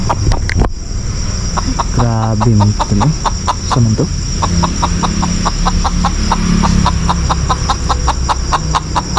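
Chickens cluck repeatedly in a steady pecking rhythm close by, over a constant hum, while people talk briefly.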